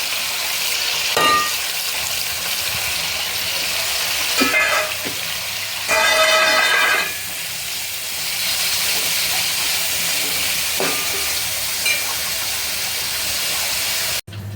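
Onions fry in hot oil with a loud, steady sizzle and hiss. A few brief flare-ups stand out over the continuous crackle, and no one speaks.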